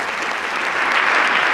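Audience applause fills the room at a live event, a dense, steady wash of clapping hands that swells slightly louder toward the end, with no voices standing out.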